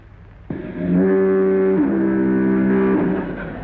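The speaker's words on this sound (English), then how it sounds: "the distant foghorns" A deep, sustained foghorn blast sounds for about two and a half seconds, droning steadily with a slight shift in pitch midway, then fading out, distant across a waterfront.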